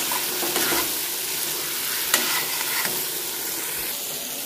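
Eggs sprinkled with red chili powder frying in a pan, a steady close sizzle with a few sharp clicks and scrapes as they are stirred, with no talking.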